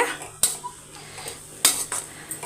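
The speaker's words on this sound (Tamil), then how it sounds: "கீரையை போட்டு நல்லா மிக்ஸ் பண்ணிவிட்டு" Spinach being stirred in a cooking pot with a metal spoon, several sharp clinks and scrapes against the pot, separated by quieter stirring.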